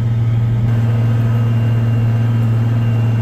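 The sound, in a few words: Case IH 9230 tractor engine running during tillage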